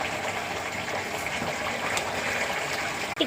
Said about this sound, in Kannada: ಹಂಗೆ ನೀರು ಬಂದಿದ್ದು ನೀರಾಗ ತೊಳ್ಯಾಕತ್ತೇವಿ.